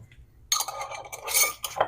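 A metal teaspoon clinks and scrapes against a container while scooping Earl Grey tea leaves, with a few quick, bright taps close by in the quiet.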